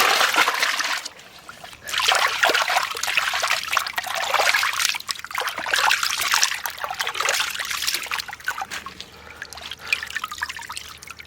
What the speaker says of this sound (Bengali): লোটে মাছগুলো ধুয়ে নেব।